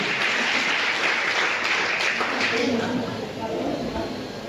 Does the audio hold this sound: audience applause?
yes